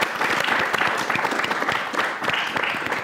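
An audience applauds at a televised historical talk, dense steady clapping from many hands filling the room, loud and close, with no voices over it.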